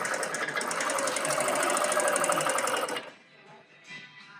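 A Q24 long arm quilting machine basting, stitching with a fast, steady mechanical rattle for about three seconds before it stops and leaves quiet handling noise.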